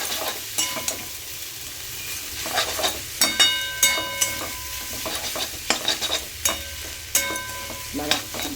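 Maggi masala with egg, salt and a little sugar fries in a pan, a steady sizzle punctuated by repeated sharp scrapes and clinks of a spatula stirring against the metal, close and fairly loud.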